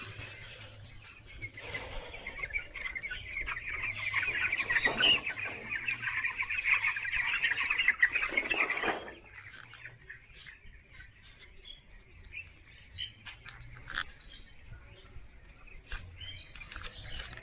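Chickens on a poultry farm cluck and chatter continuously, a dense flock that swells louder in the middle before settling into scattered, fainter calls.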